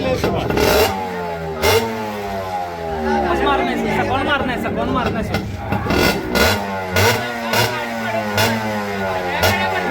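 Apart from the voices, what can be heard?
motorcycle engine started and revving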